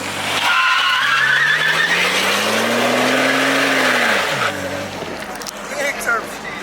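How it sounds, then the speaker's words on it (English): A single car tire spins and squeals loudly at a midnight car meet, a rising engine whine and scrubbing screech lasting several seconds before dropping off abruptly, with crowd noise behind. "One fucking tire spinning."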